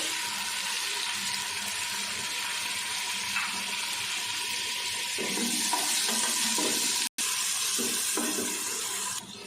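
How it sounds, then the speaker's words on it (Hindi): Water runs steadily into a cooking pot of dal with tomatoes for several seconds, a continuous splashing stream, with a faint sizzle underneath and a brief clatter near the end. "थोड़ा सा पानी डाल देंगे।"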